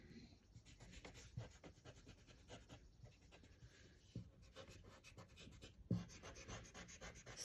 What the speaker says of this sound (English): we're going to go back and erase any pencil lines that we still have showing. So I'm just going to get my eraser and clean this up some.